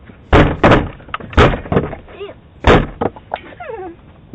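Someone kicks a door repeatedly at a house entrance, each kick a loud heavy thud with a slam-like crack, four or five impacts spaced irregularly, with brief voices and a whistle-like squeal between them.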